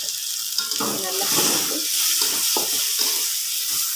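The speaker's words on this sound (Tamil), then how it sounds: "ஸோ இந்த எண்ணெயிலே தான் நம்ம வதக்கி எடுக்க போகிறோம்." Brinjal sautéing in oil for thokku makes a steady sizzle under a hissing wash, with intermittent stirring scrapes in an irregular rhythm.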